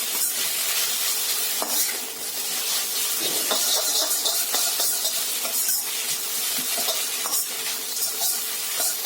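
Egg hakka noodles with soy sauce and red chili sauce are stir-fried and tossed street-food style, a loud close sizzle and hiss with repeated scraping and clinking of the utensil against the pan, no talking.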